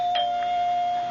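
A front doorbell in an old radio mystery drama gives a single sustained electric ring, steady and clear, heard alone without voices.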